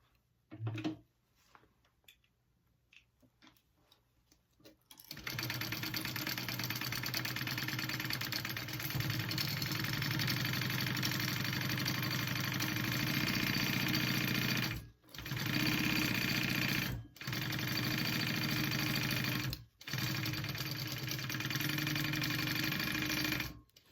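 A sewing machine stitches a quarter-inch seam on an everyday tote bag, running in a loud, steady whir after a few quiet seconds of handling, then pausing briefly three times before resuming.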